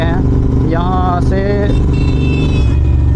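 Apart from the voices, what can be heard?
motorbike ride engine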